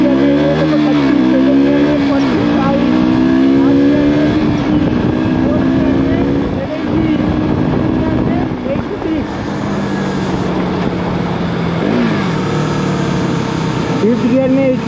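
A KTM RC200 motorcycle rides at speed, its engine droning loud and close with pitch rising and falling through gear changes, wind rushing over it throughout.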